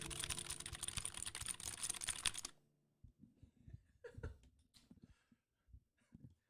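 A Meletrix Zoom98 mechanical keyboard is typed on in a sound test, its keys said to sound like marbles: a dense, loud burst of rapid clacking for a couple of seconds, then sparser, quieter key clicks and handling noises.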